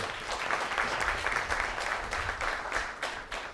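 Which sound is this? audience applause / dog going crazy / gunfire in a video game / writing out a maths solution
audience applause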